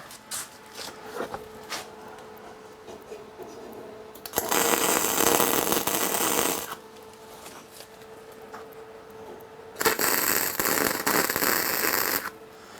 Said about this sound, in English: I've just got it tacked. I'll put some more weld on there